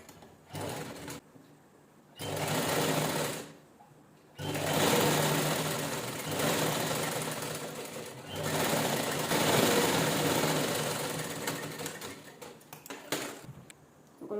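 A sewing machine stitches saree fabric and its lining together in several steady whirring runs of a few seconds each, separated by short pauses. The machine is close and fairly loud, with no talk over it.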